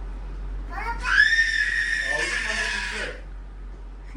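Someone shouts in a long, high, wavering cry lasting a couple of seconds indoors, over a steady low electrical hum, with softer vocal sounds before and after.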